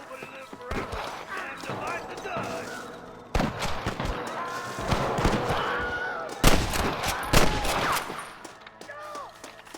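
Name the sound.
gunfire in the video game Red Dead Redemption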